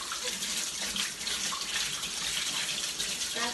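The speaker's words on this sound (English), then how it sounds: "I will wash my hands." Tap water running steadily into a kitchen sink while hands are washed, a continuous close hiss and splash with no talking.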